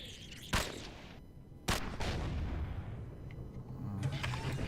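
Video game turrets firing at the player in an abandoned factory, two loud sharp blasts a second apart, then a lingering rumbling echo and scattered softer shots.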